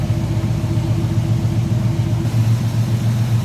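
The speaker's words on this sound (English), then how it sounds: "Let's take a look at the engine bay and listen to that engine running." The V8 engine of a 1970 Chevrolet C10 pickup idling steadily, a deep continuous rumble heard up close with no voices.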